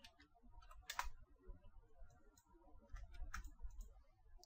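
Faint bursts of computer keyboard typing, quick soft clicks in short clusters over a low background hum.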